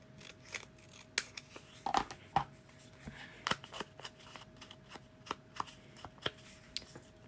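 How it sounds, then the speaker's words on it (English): Scissors snip through the top of a paper pocket strip in a papercraft project, giving a run of sharp, close cuts at an irregular pace with faint handling rustle between them. "And I'm going to snip off this top part."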